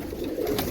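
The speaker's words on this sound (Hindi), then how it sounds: "ये बहुत तेज़ कबूतर है।" A pigeon coos from a breeder's line of pigeons, a short low throaty murmur heard close and moderately loud.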